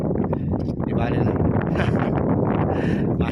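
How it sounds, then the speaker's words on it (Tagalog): Strong, cold wind roars across a hilltop campsite at Lambingan Hills in Tanay, Rizal, buffeting the microphone in a loud, continuous rush with gusty swells, while a voice speaks over it. "Ang lakas na talaga ng hangin."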